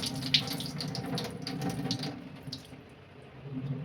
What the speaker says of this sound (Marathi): आता आपल्याला त्याच्यातलं सगळं पाणी काढून घ्यायचं आहे